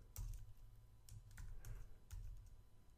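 A computer keyboard is typed on to enter a Linux terminal command, producing soft, close key taps in short uneven clusters at low volume.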